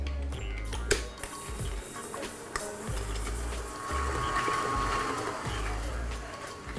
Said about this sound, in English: And then I'm going to beat that together for about a minute.